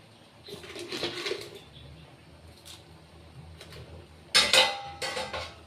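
Vegetable tamarind sambar stirred in a metal pot, with soft scrapes early on and a sharper burst of clinking, clattering utensil-on-pot sounds near the end, close by and with no talking.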